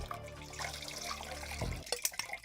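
Cold tap water runs steadily onto a heated glass bottle, a close continuous pour and splash that shifts partway through, followed by a few sharp ticks and cracks as the glass starts to give.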